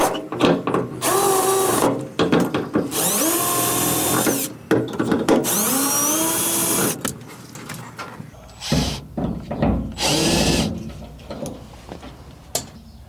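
A power drill whirs loudly in repeated bursts as screws are backed out of a gas gauge, with clicks and pauses between runs, close by.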